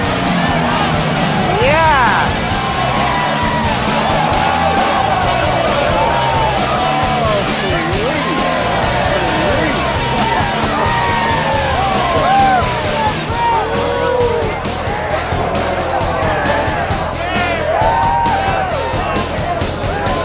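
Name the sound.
crowd yelling at Jackson Hole motorcycle hill climb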